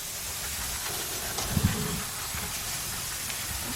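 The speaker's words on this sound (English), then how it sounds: "get you some brake parts cleaner, and you want to clean all this dust out of here first" Brake parts cleaner sprayed onto the rear brake drum and shoes of a 2000 Isuzu Rodeo 3.2 makes a steady, close hiss that runs the whole time, with a brief knock near the middle.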